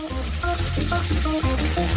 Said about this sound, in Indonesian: Sekarang aku perlu menggoreng daging ini